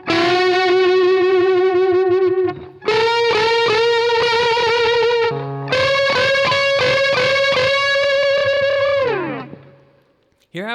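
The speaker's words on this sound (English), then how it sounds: "if you put vibrato on the bent note" A distorted electric guitar with chorus effect sustains long bent notes shaken by wide vibrato across three phrases, loud and singing, ending in a downward slide, with no talk over it.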